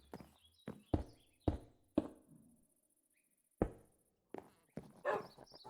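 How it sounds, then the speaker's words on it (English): A dog in Minecraft gives several short, punchy barks spaced irregularly with brief gaps of silence, close and clear with no talk over them. "Barking of a doggo."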